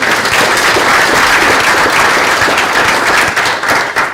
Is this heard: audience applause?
yes